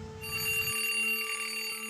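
Ringing alarm or telephone sound effect, a bright electronic ring with steady sustained tones, loud and close, lasting under two seconds.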